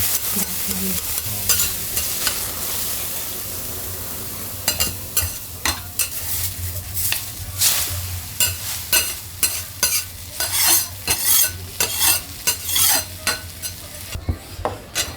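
Okonomiyaki cooking on a griddle spread with plenty of oil in a Hiroshima okonomiyaki shop, with steady loud frying and sizzling joined by repeated scraping and clattering of spatulas on the hot plate, close and continuous with no talk.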